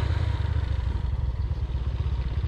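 An automatic scooter-style motorcycle engine strains steadily uphill on a steep forest road, a loud, continuous low drone with rattling clatter throughout and no talk.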